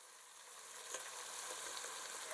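All-purpose flour goes into onions frying in a pan, giving a soft, steady hiss of sizzling with faint stirring ticks, quiet and close with no voices.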